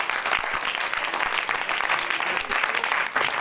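Applause in a tuition classroom for a student's test score, a dense burst of steady clapping from a group of students, close and continuous throughout.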